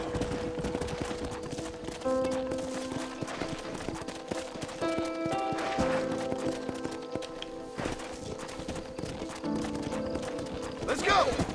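Rhythmic clip-clop of horse hooves at a gallop in Red Dead Redemption, with tonal music notes and occasional bursts over it.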